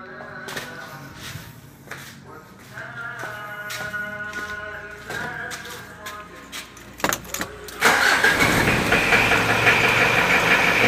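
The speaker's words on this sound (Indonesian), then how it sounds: "Oke, kita hidupkan saja mesinnya." A car engine cranks and catches near the end after a stretch of clicks and faint mechanical tones, then idles with a louder steady hum; a voice talks briefly.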